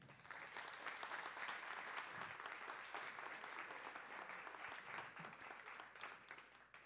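A conference audience at an alumni day applauds a speaker on his way to the stage, steady dense clapping rising quickly and holding for nearly seven seconds, heard from a distance and faint overall.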